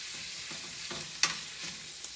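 Turkey breast sizzles quietly in a pan coated with bacon fat, a soft steady fry broken by a few small pops and crackles, with no voices.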